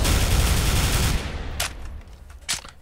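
Rapid automatic gunfire in Counter-Strike: Global Offensive roars continuously for about a second, then fades into quieter echoes broken by two sharp, loud single shots.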